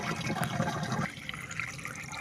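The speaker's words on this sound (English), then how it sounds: "I will fill the knapsack because I will water the pepper" Water pours into a knapsack sprayer on a pepper and tomato farm, a rushing fill that drops to a lighter trickle after about a second.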